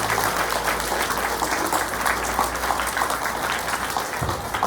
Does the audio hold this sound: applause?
yes